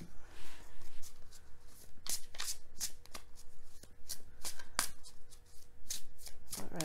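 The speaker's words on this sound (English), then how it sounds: "These cards be slipping out of my hand." Tarot cards are shuffled by hand in a continuous riffling, slapping rhythm, close up and steady, with brief flurries of sharper snaps.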